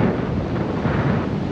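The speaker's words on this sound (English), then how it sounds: "It is very windy in Gettysburg today, very cold, actually." Strong cold wind buffets the microphone on Little Round Top at Gettysburg, a steady loud rumbling roar with gusty fluctuations and no voices.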